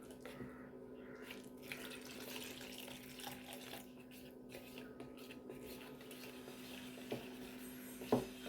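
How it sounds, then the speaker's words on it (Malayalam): Coconut milk pours in a steady, soft liquid stream onto mashed fruit mixed with onion, heard quietly and alone with a faint clink near the end. "ഇനി നമുക്ക് തേങ്ങാപ്പാൽ ഒഴിക്കാം."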